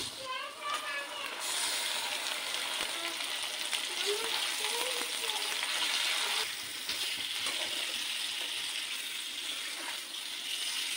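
Marinated chicken dropped into a pan of browned onions, crackling into a loud, continuous sizzle of frying that holds steady, with brief voices at the start and occasional stirring underneath.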